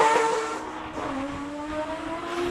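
A Mazda RX-7 race car engine at a classic car speed event in Cape Town roars past, its rising and falling whine sweeping by at mid-distance, loud and brief.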